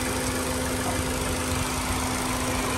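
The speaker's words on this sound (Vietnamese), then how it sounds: "Tiếng nổ rất là êm nhá" A 2015 Ford Fiesta 1.5 automatic four-cylinder engine idles smoothly and steadily at close range, a low even hum with a faint mechanical whine.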